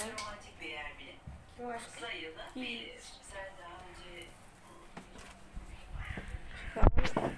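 Crows caw from outside a balcony in a residential area, harsh calls rising now and then while a person talks nearby, ending with a sharp loud knock.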